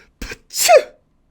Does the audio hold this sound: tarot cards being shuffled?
no